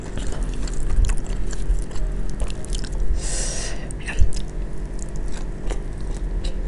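Shrimp eaten close to the mic, with steady biting and chewing, soft crunches and wet mouth sounds repeating throughout, and no talk.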